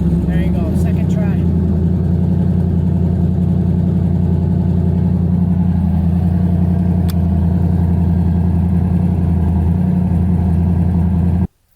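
Car engine fitted with a Holley Terminator X fuel injection system, running on E85, idles loudly and steadily right after starting, a deep constant rumble that cuts off abruptly at the end; a voice is present.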